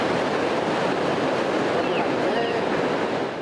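Ocean waves crashing along the Tijuana coastline in Mexico, a constant loud wash of surf and rushing water with some wind, steady from start to finish with no clear voices.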